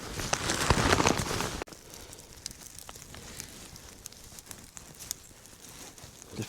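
A campfire of dry sticks in a snowy woods crackles steadily with scattered sharp pops, louder and denser at first, then settling into a quieter continuous crackle.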